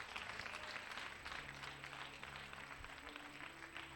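A church congregation applauds the Holy Spirit during a worship service, producing a continuous wash of many hands clapping at moderate distance, fairly faint and steady for the whole stretch.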